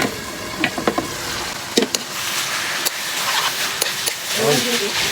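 Sisig made from ground meat is stirred in a hot frying pan, a steady sizzle and hiss broken by scraping clicks of the utensil, with a voice speaking briefly near the end.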